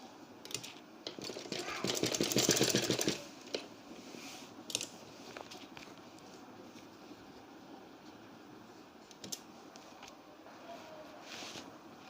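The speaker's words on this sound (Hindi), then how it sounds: "डबल स्टिचिंग कीजिएगा" A sewing machine runs in a quick burst of rapid mechanical clatter while double-stitching a kurti collar, followed by brief softer stitching taps and handling noises at moderate loudness.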